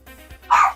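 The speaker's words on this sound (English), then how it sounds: "Why is my dog here?" A single dog bark rings out at close range, one short loud burst following a stretch of quiet room tone.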